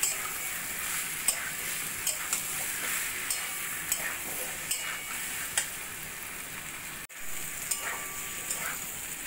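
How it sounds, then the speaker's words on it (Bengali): Fried pointed gourd stirred into spice paste in a pan for a potato and gourd curry, producing a soft steady sizzle with regular sharp taps and scrapes of a spatula, briefly interrupted before resuming. "পটলগুলো ভালো করে মশলার সঙ্গে মিশিয়ে আরো কিছুক্ষণ কষিয়ে নেব।"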